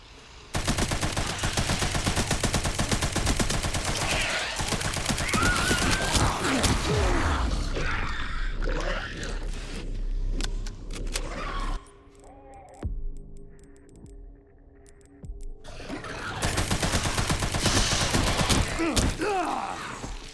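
Rapid dense bursts of machine gun fire from a Resident Evil survival horror game, loud and sustained at the start and again at the end, with a quieter stretch of mechanical creaks and game sounds in between.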